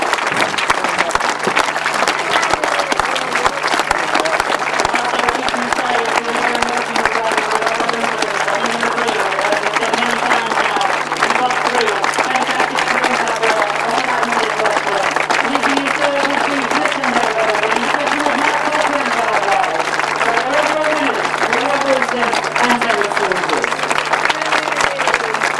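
Sustained crowd applause at a grasstrack racing trophy presentation, loud and dense clapping from many people that holds steady throughout with no pauses.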